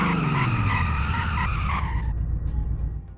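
A car braking hard from speed with its tires skidding, a loud, close squeal over engine roar that cuts off abruptly near the end, leaving faint residual noise.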